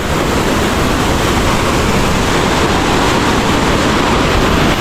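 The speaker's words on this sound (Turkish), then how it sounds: "Sonunda Cascada Chaepe, yani şelale Chaepe'ye ulaştım." Cascada Chaepe, a powerful waterfall near Lima, roars as a loud, dense, unbroken rush of falling water, heard close and alone.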